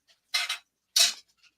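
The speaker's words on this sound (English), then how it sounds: "Wife's washing dishes." Dishes being washed with cutlery clinking against them, two short bursts of bright metallic rattling and clatter separated by a pause, plus a few faint ticks, close and moderately loud with no talking.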